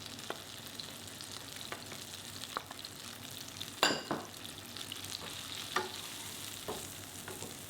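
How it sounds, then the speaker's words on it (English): Chopped onion frying in butter in a pan on medium heat makes a quiet, even sizzle, broken by intermittent spoon taps and scrapes and one louder clatter partway through. "Heat pan on medium heat and add 2 tablespoons of butter. Add 1 chopped onion."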